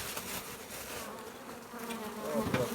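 Honey bees buzz steadily around a hive during a spring inspection as foragers bring in crocus pollen, a dense close hum of many wings with no talk over it.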